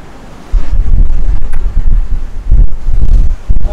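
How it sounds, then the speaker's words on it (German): Strong 15-knot wind on a sailboat at sea between Sylt and Spiekeroog on a squally day roars and buffets loudly against the microphone in heavy gusts, with faint wave and hull sounds beneath. "Auch jetzt haben wir wieder 15 Knoten Wind."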